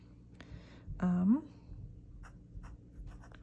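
A Sailor Hocoro dip pen with a 1.0 stub nib traces figure eights, giving a faint, soft scratching close by, with a brief voice partway through.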